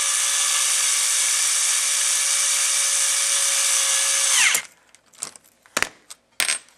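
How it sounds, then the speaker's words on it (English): A cordless driver spins a bolt through a nylock nut held by a cross wrench on a 1/8 scale Atomik-RC Metal Mulisha SCT truck, running as a steady close whine for about four seconds before stopping, followed by a few light clanks and handling knocks. "Get our cross wrench and driver on it."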